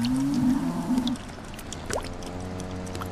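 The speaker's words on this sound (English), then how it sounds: "And the cows, they're complaining quite a lot this evening." Cattle low in the evening near a garden, with one long, deep moo up close at the start before fading into quieter rural background with faint bird calls.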